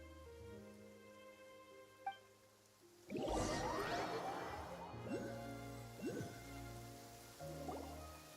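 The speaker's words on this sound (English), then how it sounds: "It's been raining non-stop for a few days now." Steady rain falls in Genshin Impact's Fontaine region, a continuous hiss starting about three seconds in after a quiet opening, with soft drips and game music tones layered through it.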